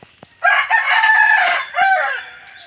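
A rooster crows loudly nearby, a long drawn-out call with a short second phrase, amid faint clucking of chickens.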